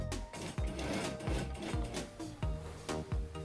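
A sewing machine stitching along the edge of felt for quiet books, making a close, steady mechanical whir broken by regular rhythmic needle thumps, with no talking over it.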